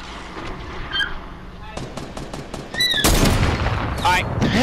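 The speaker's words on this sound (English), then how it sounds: "Shots fired behind us." Video game gunfire during a three-player squad match, with bursts of shots cracking out in rapid volleys that grow louder and denser partway through, mixed with game effects and occasional voices.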